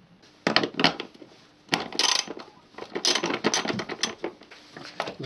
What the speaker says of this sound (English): So remove this 10mm nut here, and the one that's hidden underneath this cap.